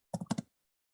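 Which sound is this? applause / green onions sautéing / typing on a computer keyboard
typing on a computer keyboard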